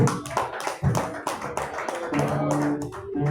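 A church congregation at a communion service claps in praise. Many hands clap close and loud in a quick, uneven rhythm, with a few voices and low background sounds mixed underneath.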